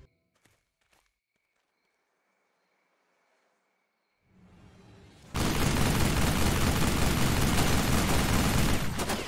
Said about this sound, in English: This is a 50 cal M2. It's one of the most iconic mounted machine guns I can think of. It's got that iconic slow fire